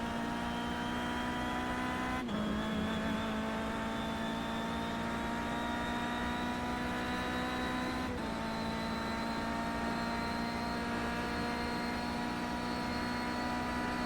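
A race car engine holds steady at full throttle on the Interlagos circuit in iRacing, a loud sustained drone with two brief dips, like quick gear shifts, and no talk over it.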